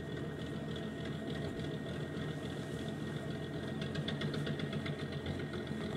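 A 38 ft narrowboat's engine runs steadily on the Aire and Calder Navigation, a continuous low mechanical drone with a slight knocking chug and gentle swells in level, close and alone with no talk.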